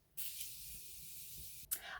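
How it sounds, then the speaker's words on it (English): Morphe Continuous Setting Mist sprays onto skin in one long, even hiss lasting about a second and a half, close and clear, followed by a brief second puff. "I'm just going to quickly mist my skin"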